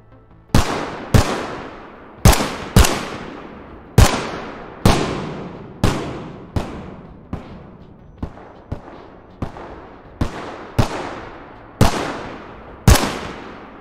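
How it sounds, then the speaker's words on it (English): About fourteen distinct gunshots ring out roughly a second apart, each a sharp crack followed by a decaying echoing tail, their loudness and reflections shifting as if fired from varying distances in different surroundings; no one speaks. "how to set up a distance-based gun sound, with reflection layers which will change depending on the environment"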